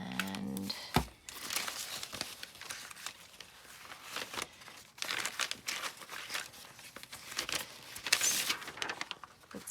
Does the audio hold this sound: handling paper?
yes